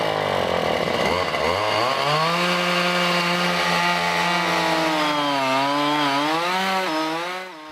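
An engineer's drilling rig bores into the ground to take soil samples on a residential property: a loud, continuous engine drone whose pitch rises and wavers throughout, close by and alone.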